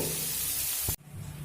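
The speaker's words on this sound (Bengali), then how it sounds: "দেখুন, পেঁপে আর আলুটা আমি ভেজে তুলে নিয়েছি আর এখানে তেল অ্যাড করেছি।" Oil sizzles and hisses steadily in a pan after papaya and potato pieces have been fried and lifted out, then the sound cuts off abruptly to a quieter hiss.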